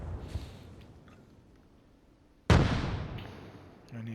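In the military game Arma Reforger, an AI mortar fires in the background: a single sharp boom that decays over a second or so, heard after low ambient rumble and faint earlier thuds.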